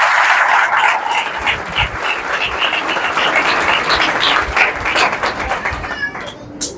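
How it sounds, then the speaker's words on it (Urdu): A church congregation on Palm Sunday claps loudly and vigorously, a dense, sustained burst of many hands with a few faint voices mixed in, fading slightly at the close. "تو جتنے لوگ خداوند کی دی ہوئی نجات کے لیے خوش ہیں وہ ذرا زوردار تالی بجائیں۔"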